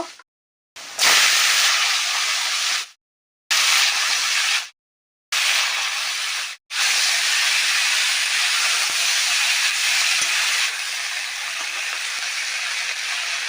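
Moringa drumstick pods go into a hot pan of lightly fried potatoes with turmeric for a prawn dish, setting off a loud, continuous close sizzle broken by several abrupt gaps.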